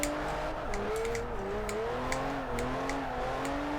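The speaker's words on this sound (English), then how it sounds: "Gonna end it with this last drift right here and do a 360." A Lexus IS300 drift build in Forza 4 holds a sustained engine drone with shifting pitch as it slides and spins through a drift, tire squeal faintly mixed in, no talk.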